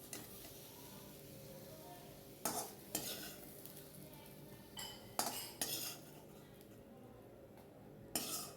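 Fried eggplant being lifted out of a kadai and set in a pot with fried fish, heard as a few sharp utensil clinks and scrapes against cookware over a faint background sizzle.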